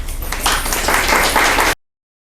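A community health breakfast forum audience gives a round of applause, a loud, dense patter of clapping hands that holds steady, then cuts off abruptly into silence.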